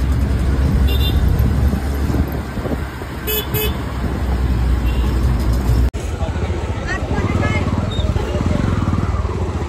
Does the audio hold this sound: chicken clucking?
no